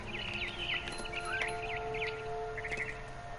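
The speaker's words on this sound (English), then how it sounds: "Then I heard chirping outside my window. It was a barn swallow going back to her nest." A barn swallow near its nest outside a window in The Remains of Edith Finch chirps in quick warbling bursts, repeated twitters across the scene with a brief trill near the end, clear over a quiet ambient bed.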